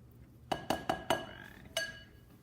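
A metal spoon digs the pit out of a halved avocado, giving five sharp clinks in a quick uneven series, then a pause and one last clink, close and clear with no talking.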